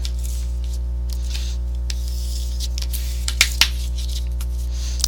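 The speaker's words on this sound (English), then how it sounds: "let's burnish this tape down" Tape being burnished down onto paper with soft rubbing strokes and a couple of sharper scrapes near the end, close up and alone over a steady low hum.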